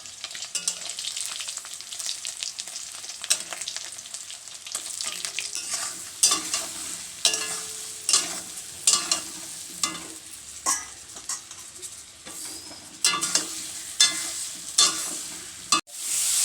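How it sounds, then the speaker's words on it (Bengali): Pointed gourd sautéed with tomato and spices in a pan makes a bright, crackling sizzle, with frequent scraping stirs that turn louder and more regular in the second half. "তারপরে টমেটো দিয়ে মশলা দিয়ে ভালো করে কষিয়ে নিচ্ছি"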